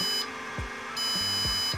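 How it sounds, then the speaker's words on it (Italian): Walksnail Avatar VRX FPV video receiver module beeping during a firmware update, short electronic beeps repeating at an uneven rhythm over a steady high electronic whine, with no talk. "Durante l'aggiornamento il modulo continuerà a beepare per circa 5 minuti."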